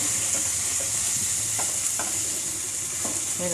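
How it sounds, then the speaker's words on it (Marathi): Pulao mixed and mashed in a pan with Byadgi chilli powder, a steady sizzle under soft scraping and stirring strokes at close range, no voices. "अशा पद्धतीने हे मॅश करायचं आहे"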